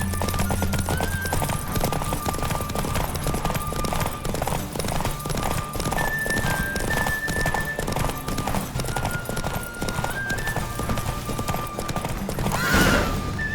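Hoofbeats of a chestnut horse galloping in a Witcher 3 race pound steadily and loudly throughout, with a whinny near the end over continuous game music.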